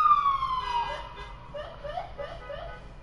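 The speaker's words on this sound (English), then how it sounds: "I love how everybody can probably hear that fucking police siren." A police siren wails with a falling tone, prominent at first and then fading into a warbling pattern, with no talk over it.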